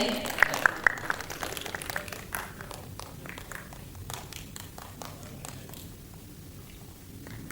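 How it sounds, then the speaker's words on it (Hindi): An audience at a hip-hop elimination round claps for a contestant, scattered sharp claps at first that thin into sparse, uneven hits and fade toward quiet, with some voices and movement underneath. "XIV के लिए जोरदार तालियां हो जाए."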